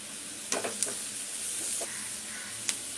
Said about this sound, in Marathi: चांगला कांदा परतून घेऊया